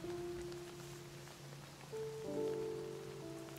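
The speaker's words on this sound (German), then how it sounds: "Eine kleine Regenwolke, die den Spieler verfolgt." Soft patter of rain falling from a small rain cloud that follows the player in the farming video game Fae Farm, steady and low under tonal game music.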